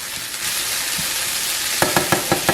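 Food for a crustless quiche sizzles steadily in a pan, loud and close, and a run of short stirring scrapes breaks in near the end.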